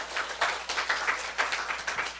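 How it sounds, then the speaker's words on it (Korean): A church congregation claps during a Sunday sermon in a rhythmic, unison beat at a steady pace, loud and close, with no talking over it. "우리 하나님 박수 올려드려요"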